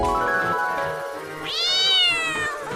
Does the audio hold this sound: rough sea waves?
no